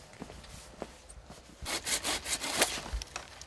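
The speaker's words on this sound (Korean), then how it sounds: "마당 옆 밤나무에 가지를 쳐내는" Hand saw cutting through branches of a chestnut tree beside a farmhouse yard in rural Cheongyang, a few scattered rasping strokes early on, then a denser, louder run of back-and-forth sawing with occasional cracks.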